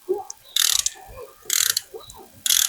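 A ratchet snugs down a bolt in a helicoil-repaired valve cover hole on an LS engine, three quick bursts of rapid clicking, close and crisp, separated by short pauses.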